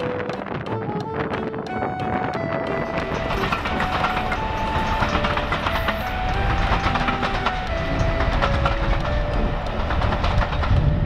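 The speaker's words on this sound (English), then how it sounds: "It's an engine actually, a locomotive if you like," A railway locomotive passes close by with a continuous heavy rumble, rhythmic clickety-clack of wheels over rail joints and wind buffeting the microphone, loud and steady throughout.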